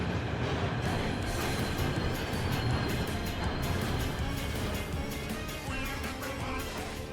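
Train rolling along in the video game Warhammer 40k: Rogue Trader, a steady dense rumble with rattling that runs throughout, easing slightly near the end, with no clear talk over it.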